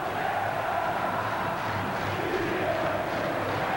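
Vasco supporters shouting and chanting in the Maracanã stadium during the 2000 Campeonato Carioca final against Flamengo, a dense, steady roar of a huge crowd heard from a distance, unbroken throughout.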